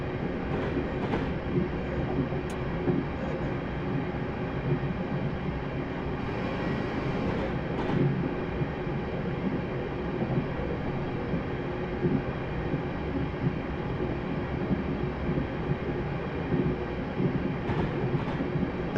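A simulated train in Train Simulator 2018 runs the Rugby to Stafford stopping service with a steady, loud rolling rumble and wheel noise throughout, a few sharp clicks punctuating the drone.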